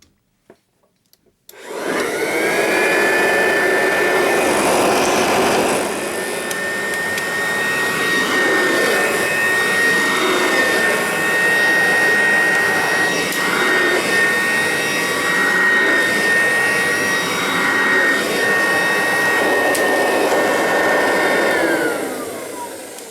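Model 516 vacuum cleaner with slight bearing noise starts up and runs: a loud, steady motor roar with a high whining tone, holding for about twenty seconds before it begins to wind down.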